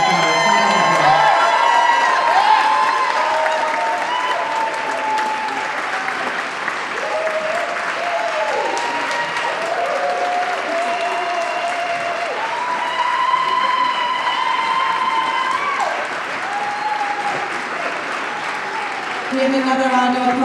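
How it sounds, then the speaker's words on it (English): An audience at an outdoor Boston 250 launch stop on the Henry Knox Trail in Roxbury applauds and cheers for the afternoon's artists in a long, sustained ovation, with whoops and shouts over the clapping. "Give another round of applause for all of the artists of this afternoon."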